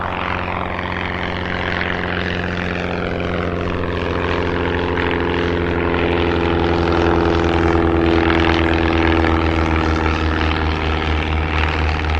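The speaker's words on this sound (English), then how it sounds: "Another one getting airborne." Propeller aircraft taking off at Cotswold Airport, a loud, steady engine drone with strong harmonic hum that rises slightly in pitch and builds in volume as it climbs away, with no talking.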